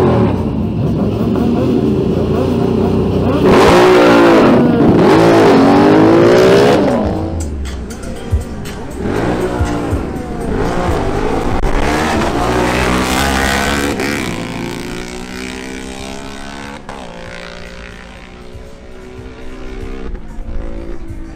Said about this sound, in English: runs of the 11-second motorcycles from the 17th edition of the Barranquilla 2024 Carnival Cup quarter-mile drag races